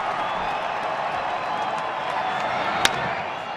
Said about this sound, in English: The fans are cheering because the sun is out.